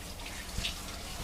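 Water runs steadily from a tap while a dog's coat is rinsed at a pet wash station, a constant close splashing flow with one brief knock partway through.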